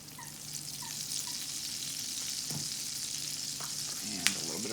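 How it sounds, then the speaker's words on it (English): Gnocchi frying in butter in a pan over medium heat, a steady close sizzle and crackle with a brief clink of a utensil near the end, no talking. "I'm just going to put our gnocchi into the butter."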